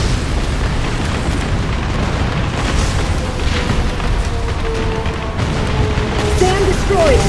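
A dam blast in the combat flight game Ace Combat Assault Horizon rolls out as a sustained, loud, heavy rumbling roar that stays dense for the whole stretch.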